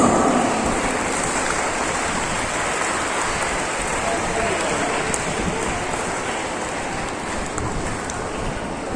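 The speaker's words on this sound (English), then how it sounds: "Let's encourage them with a huge round of applause." An audience at a school investiture ceremony claps in a steady, even roar of applause that fades slightly over several seconds.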